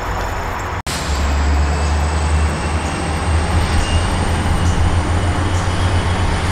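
A freight train hauled by EMD diesel locomotives rolls past close by, a loud, steady low rumble of engines and wagons that continues without a break after a brief cut near the start.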